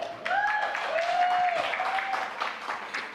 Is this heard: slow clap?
yes